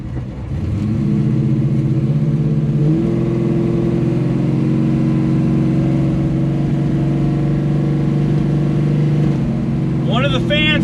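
A Chrysler car's engine while driving through a neighborhood: a steady, loud humming drone that stays even throughout, with a brief chirping sound near the end.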